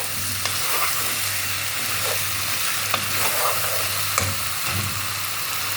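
Flour being stirred into mushrooms and kofta frying in a pan, a steady sizzle broken by several close spoon scrapes and taps.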